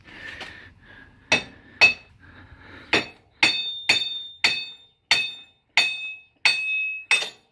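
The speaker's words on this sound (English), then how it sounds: "Grab my hammer here." Hammer blows on a metal part of a 250cc TaoTao ATV, knocking loose a muddy sprocket and flange: about ten sharp, ringing metallic strikes, close and loud, spaced roughly half a second apart after a few softer taps.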